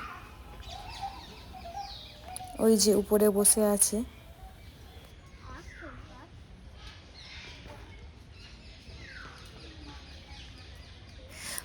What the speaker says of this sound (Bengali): পাখির ডাক শুনে তো বুঝতেই পারছেন কোন পাখি